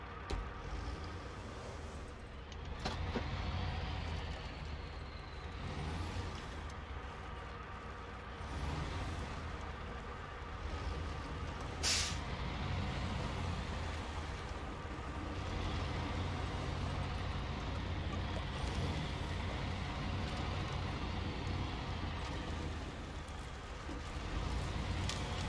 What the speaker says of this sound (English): Turn on engine on winch truck.